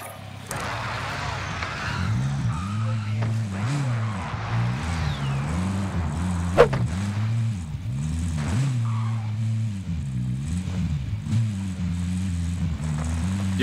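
A vehicle driven clumsily in Warzone, its engine droning in a steady wavering pitch with a few brief squeals and a sharp bump, heard up close throughout.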